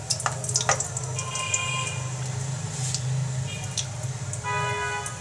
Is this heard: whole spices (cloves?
yes